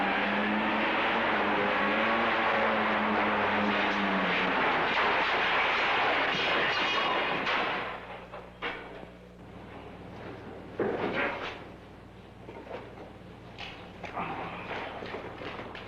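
A 12,000-pound truck crashes hard at the bottom of an incline after running with no brakes: a loud, broad roar and grinding clatter for about eight seconds, then fainter scraping and settling noises.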